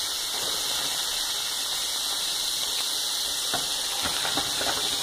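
Butter sizzles steadily in a hot pan while curry goat and shrimp cook, a continuous loud hiss with occasional crackling pops near the end.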